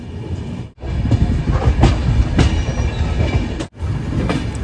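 The Puri–New Delhi express train runs past close by, a loud steady rumble of rolling wheels with rhythmic clatter and brief sharp drops between carriages, no voices.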